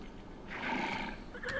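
A horse whinnies inside the island-building game My Island, a fairly loud, drawn-out neigh starting about halfway through, rising over a steady background of game ambience, with no talk.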